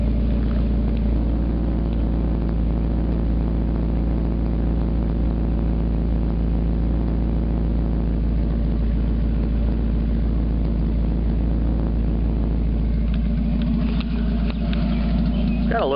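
A 1991 Mazda Miata MX-5 engine with a newly replaced catalytic converter idles steadily with a deep, throaty low rumble, continuous and close, with a slight change in tone near the end.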